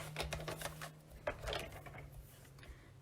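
A paper trimmer slices through cardstock for a handmade card, giving faint close clicks and short scraping, mechanical strokes in an irregular rhythm, with no speech.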